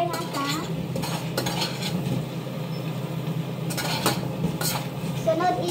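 A spoon scrapes and clinks against a pan as tomato paste is stirred into cauliflower, with soft intermittent stirring knocks over a low background hum, all fairly quiet.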